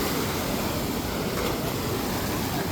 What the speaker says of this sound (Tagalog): May mga pagkakataon na malakas yung alon dito.